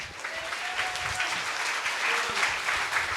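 A church congregation at a Sunday Kannada worship service claps together, a continuous, even patter of many hands heard at moderate distance with no talk.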